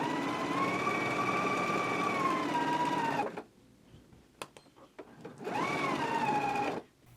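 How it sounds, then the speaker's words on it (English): A sewing machine stitches the inner leg seam of a pair of shorts at a 5/8-inch seam allowance, a close, steady mechanical whir for about three seconds, then a pause with small clicks, then another shorter run. "we can go ahead and stitch it at a 5/8 of an inch seam allowance."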